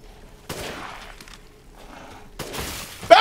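Sniper rifle shots in Resident Evil Village, two sharp, heavy reports about two seconds apart, each followed by a brief rattling tail, with a loud crack at the very end.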